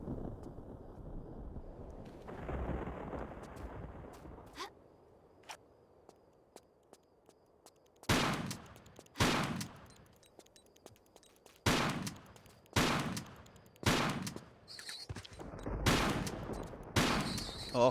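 Repeated loud shotgun blasts in Tomb Raider: The Last Revelation, fired at a beetle and a scorpion, come in a rapid irregular sequence of sharp booms after a quieter stretch of ambience and faint clicks.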